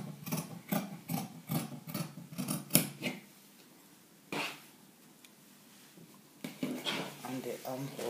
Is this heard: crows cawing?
no